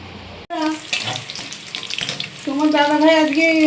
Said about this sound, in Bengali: এই আলুগুলো ভাজছি, নুন হলুদ দিয়েছি